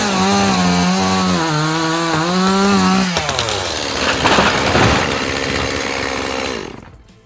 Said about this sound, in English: A man cut a tree with a chainsaw